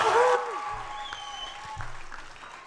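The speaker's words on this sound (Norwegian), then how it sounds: "Applaus!" Audience applause at a church youth gathering in Norway: a brief, loud burst of clapping and voices at the start that quickly fades into scattered claps under continued speech.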